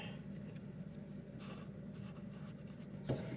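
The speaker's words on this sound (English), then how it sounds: "then I'm going to mark my line right where this one is" A pencil marks a cut line on wall trim, faint scratchy strokes against a quiet room hum, with a small knock near the end.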